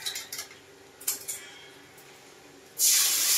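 Metal utensils clink and scrape in a pan with a few sharp taps, and then water goes into chili powder spice mix and a loud, close sizzling hiss bursts up and holds.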